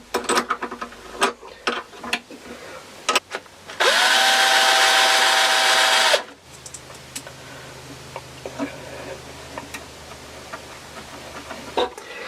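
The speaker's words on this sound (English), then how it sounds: "Run through all the holes with a drill just to clean them out." A power drill whirs loudly for a couple of seconds, cleaning out holes during a guitar build, surrounded by quieter clicks, taps and handling noises before and after.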